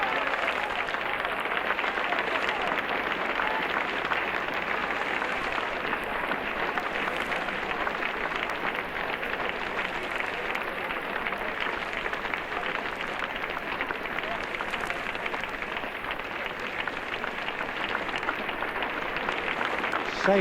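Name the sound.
cricket crowd applauding batsman Graham Pollock's dismissal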